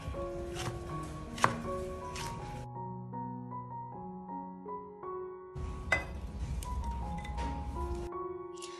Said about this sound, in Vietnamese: Mình sẽ cắt lát ra hen.